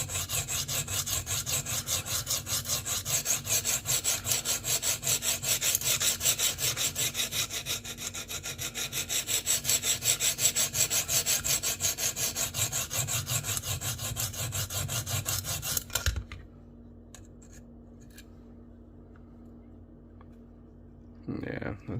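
A Kizer Begleiter knife blade is rubbed on a sharpening stone in fast, rhythmic back-and-forth strokes that are loud and steady for about sixteen seconds, then stop, leaving faint quiet handling sounds.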